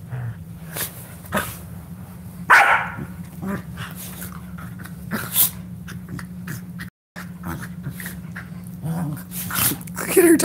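Two playful dogs bark, yip and growl in short bursts, some loud and close, over a steady low hum, with a brief dropout near the middle.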